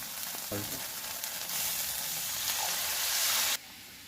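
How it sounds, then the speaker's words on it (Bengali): Water goes into fried poppy seed paste with turmeric in a pan for a tangra fish dish. The sizzle swells into a loud, rushing hiss, then cuts off abruptly near the end. "পোস্তটা আমার ভাজা ভাজা হয়ে গেছে, আমি এবার এর মধ্যে জল দিয়ে দেবো।"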